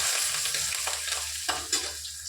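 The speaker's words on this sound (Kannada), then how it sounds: "ಹಸಿಮೆಣಸಿನಕಾಯಿ, ಆಮೇಲೆ ಈರುಳ್ಳಿ ಎಲ್ಲ ಚೆನ್ನಾಗಿ ಒಂದ್ಸಲಿ ಫ್ರೈ ಮಾಡಿಕೊಂಡು" Green chillies and onions fry in a pan, a steady soft sizzle broken by a few stirring scrapes, close and alone without voices.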